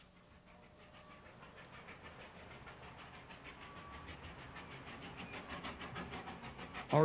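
Georgetown Loop Railroad train rolling along the rails near Clear Creek, a faint rhythmic clatter of wheels that slowly builds in loudness, with a sharp knock at the very end.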